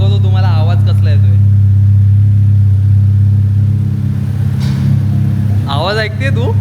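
A car's engine idles after cooling down from running hot, producing a loud, steady, close low hum throughout, with brief voices heard near the start and end.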